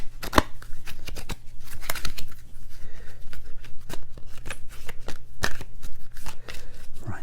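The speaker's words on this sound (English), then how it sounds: "just shuffle the pack." Tarot cards being shuffled by hand, a run of crisp riffling and tapping bursts spread across several seconds, close and fairly quiet over a low steady hum.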